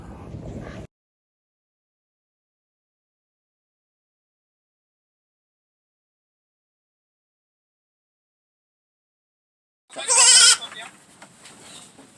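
Goats kept as pack goats on a farm in Los Angeles give a short bleat, then after a long silence a louder, wavering bleat rings out near the microphone, followed by faint background sounds.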